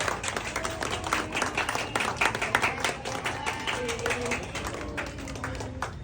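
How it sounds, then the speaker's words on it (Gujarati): An audience claps through a birthday celebration honouring Raju Solanki, giving a dense, continuous patter of many hands that stays steady at moderate loudness, with a murmur of voices mixed in. "ભાઈઓ તથા બહેનો તાળીઓથી ગણગડાટ કરી રાજુભાઈને વધાવી રહ્યો"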